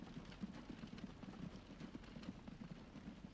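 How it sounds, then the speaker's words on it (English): Horse-drawn wagons clip-clop in the Transport Fever game, a busy, overlapping patter of hooves sounding steadily throughout at a fairly low level with no talk. "Well, I say trucks, not really trucks, horse wagons."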